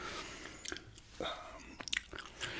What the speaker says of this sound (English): it's just a gum chewing long ramble here today